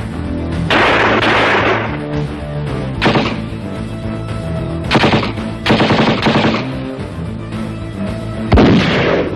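Gunfire shot into the air in the film Samurai Cop comes in several loud bursts of rapid automatic shots with pauses between, over a steady music bed.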